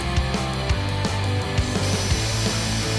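A power drill drives screws into a tin can lamp base in short repeated bursts, each whir rising and stopping with brief pauses between, close and fairly loud with no talking.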